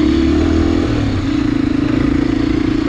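Close by, a Honda AX-1 motorcycle engine runs at a steady idle with a pulsing beat and light clatter, loud and alone, with no voices.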